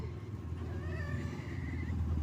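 A kitten mewing in a faint rising call over a steady low engine-like hum, one drawn-out meow heard fairly close.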